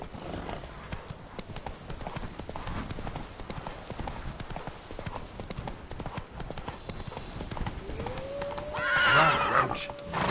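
Horse hooves clip-clop at a steady galloping rhythm throughout a ride in The Witcher 3, with a whinny rising near the end over the continuous game soundscape.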